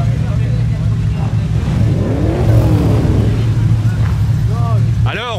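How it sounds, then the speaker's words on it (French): Plymouth Caravelle car engine revving at a Rock&Cars show, a loud low rumble that swells and falls under crowd noise and nearby talking voices. "on fait rugir le moteur"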